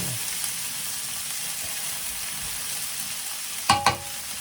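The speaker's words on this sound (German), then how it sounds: "So lassen wir das jetzt so ein bisschen anbraten." Maultaschen frying in hot oil in a pan for a Thai curry, a steady soft sizzle throughout with two sharper clatters of stirring near the end.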